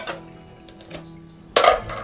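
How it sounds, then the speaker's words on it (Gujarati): Metal cooking pots and utensils give a single sharp clanking clatter after a quiet moment, close and brief. "વાસણ કાઢી લે."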